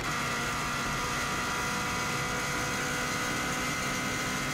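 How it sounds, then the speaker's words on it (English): A 2016 Subaru WRX STI engine revving high while racing at speed on the Isle of Man TT course, a dense, constant roar with no breaks. "it's also revving quite a lot higher than the previous car"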